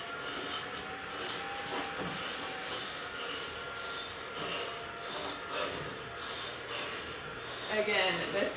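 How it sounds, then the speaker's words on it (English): A loud, steady vacuum cleaner roars continuously, with rattling and crackling as debris is sucked up, swelling louder near the end. "All I do is turn the vacuum on and suck up all the debris that you guys saw."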